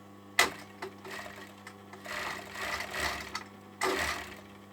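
A sewing machine stitches a sleeve into a hoodie from a Burda 6315 pattern, running in short intermittent bursts with a sharp tick near the start and a final loud burst, moderately quiet and close.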